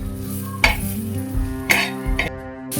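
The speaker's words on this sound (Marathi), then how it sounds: "व्यवस्थित छान हलवायचं" Salted thecha is stirred in a pan, giving a few sharp spoon scrapes and clinks against the metal over a steady humming background.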